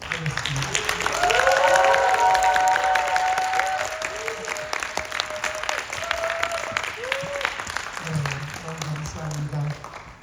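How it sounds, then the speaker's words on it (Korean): Church youth winter camp congregation applauding the teachers in thanks and congratulation: a loud, sustained burst of clapping that swells early, with voices and a sung or spoken tone rising over it before the applause tapers. "우리 감사와 축하의 박수로 함께 하겠습니다"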